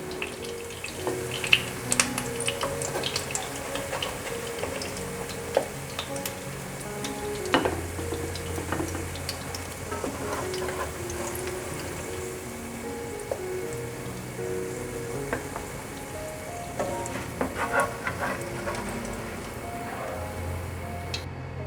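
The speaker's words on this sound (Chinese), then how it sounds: "继续煎成金黄色，煎成金黄色了，把素排骨取出来" Vegan ribs sizzle steadily in a frying pan as they cook until golden, a constant close crackle dotted with small pops and clicks throughout, with no talking.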